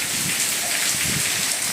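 Heavy rain with wind pours down in Kutch, a dense, steady hiss of rain striking surfaces, loud and close, continuous throughout with no speech.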